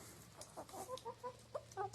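Several chickens cluck in short, irregular bursts, close by, over a low steady hum.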